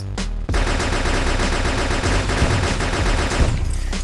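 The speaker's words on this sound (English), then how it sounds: "This new alien rifle is like so good." Alien rifle in the Block City Wars video game firing a loud, continuous rapid-fire burst that runs almost the whole clip after a brief pause near the start.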